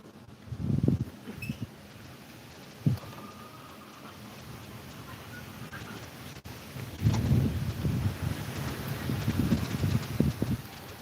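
Strong gusting wind of Typhoon Uwan buffets the microphone outdoors, rising in rough bursts and then holding a sustained roar through the second half.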